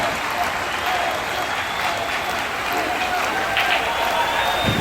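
Spectators at a 10-ball pool match applaud and cheer in a continuous wash of clapping that holds steady at moderate loudness, with faint voices mixed into the crowd noise.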